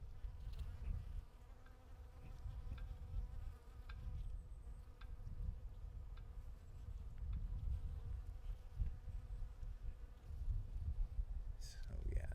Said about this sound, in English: See if we can get the bee sounds.